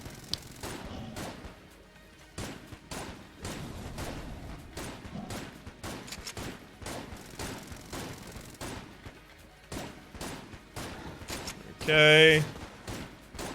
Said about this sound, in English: A lot of these shots are only just getting close enough to deal their damage.